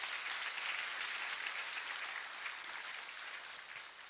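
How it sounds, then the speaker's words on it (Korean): An audience at a Daegu citizens' roundtable meeting applauds continuously, a soft, even wash of many hands clapping heard from some distance for a few seconds. "운영위원님들께 박수 한번 보내주십시오,"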